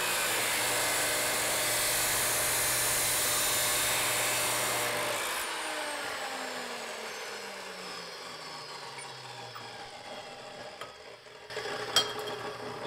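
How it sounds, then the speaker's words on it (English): A power sander grinds the freshly cut end of slotted extruded aluminum square, a loud steady whine and rasp lasting about five seconds before spinning down into a quieter, fading hum with small clicks near the end. "I will then run it on the sander and then you get a perfectly square edge to it."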